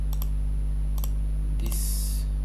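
Crisp computer mouse clicks at a desk come in quick doubled pairs, twice, then a single click, close and clear over a steady low electrical hum.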